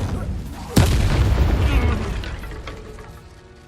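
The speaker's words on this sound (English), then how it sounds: "Incendio!" An Incendio fire spell cast in a Hogwarts video game bursts with a sudden sharp boom that rolls into a rumbling, crackling whoosh and fades over a few seconds, loud and close.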